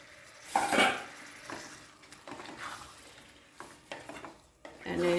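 Boiled mixed vegetables tipped into gravy in a kadai are stirred with a spoon, giving irregular scraping and clinking knocks against the pan over a low background sizzle.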